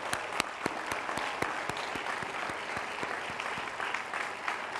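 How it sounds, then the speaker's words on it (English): Sustained applause from the audience at the Johns Hopkins universitywide commencement, moderately distant, with a recurring sharp tapping pulse running through the clapping. "So let's give them all a very big round of applause."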